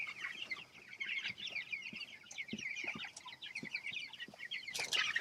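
A flock of farm chickens clucks and chatters busily over a tray of fermented feed, a dense, continuous murmur of soft clucks close by, with occasional sharper calls and a brief flutter near the end.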